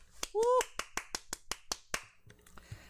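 A single person clapping on a stock-market livestream, about ten sharp, evenly spaced claps close to the mic, with a brief voiced sound near the beginning.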